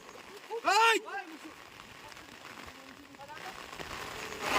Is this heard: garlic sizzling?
no